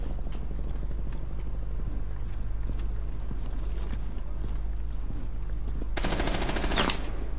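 Gunfire in the tactical shooter Rainbow Six Siege, distant sharp shots scattered over a constant low background hum, building to a louder, rapid automatic burst near the end, with no talking.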